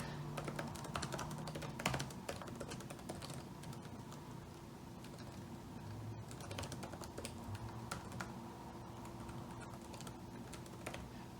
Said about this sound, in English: So let's just type something really quick.